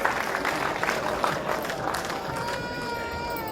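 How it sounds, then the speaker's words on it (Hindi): Audience applause at an Urdu poetry mushaira, a dense sustained clapping from a large hall crowd, with a voice coming through as the clapping continues near the end. "जोरदार तालियों से इस्तकबाल।"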